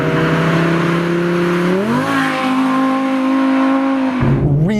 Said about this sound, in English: Really fast shifts in this car.